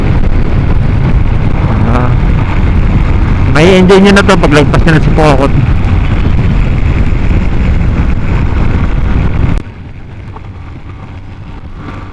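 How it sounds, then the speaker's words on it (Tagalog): Loud, steady wind roar buffeting the microphone during a motorcycle ride toward Siruma, Bicol, with someone talking over it; the rushing noise drops off abruptly near the end. "Grabe, mahangin, no? Lakas ng hangin."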